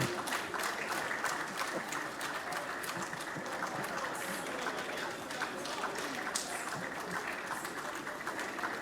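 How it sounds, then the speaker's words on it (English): An audience claps for the Minister of Environment at a tree-planting event, a long, fairly faint and distant patter of many hands that continues steadily without a break. "I believe we can make the applause a bit louder for the Honourable Minister of Environment."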